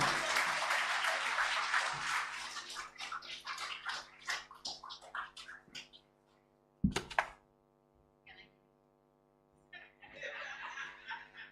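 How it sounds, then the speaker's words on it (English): A graduation audience at a school of sustainable agriculture and culinary arts applauds loudly for several seconds before the clapping fades. Scattered laughter and quieter crowd noise follow. "a round of applause"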